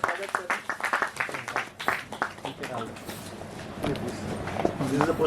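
Audience at a Ram poster launch event clapping in welcome for a guest, a steady patter of hand claps that rises and carries on under ongoing talk.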